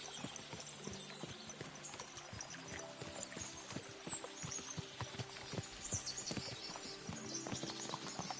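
Horses gallop in Kingdom Come: Deliverance II, a quiet, busy patter of hoofbeats continuing throughout with faint background tones underneath.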